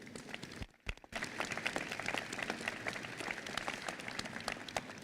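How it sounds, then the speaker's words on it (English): Audience applause fills a museum's grand reopening ceremony at Soldiers Memorial, a dense, steady clatter of many hands after a brief dip near the start. "Please give them a round of applause."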